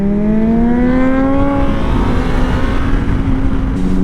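A group ride of motorcycles, including a Kawasaki H2 two-stroke, a Yamaha Fazer and a Honda CBX, makes a loud, steady engine drone with a rising pitch as they accelerate together, close by and with no talk.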